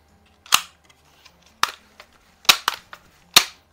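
Winchester 1977XS multi-pump air gun fired after two pumps: four sharp, loud cracks spaced unevenly, each with a short clattering tail, plus a few fainter clicks between them.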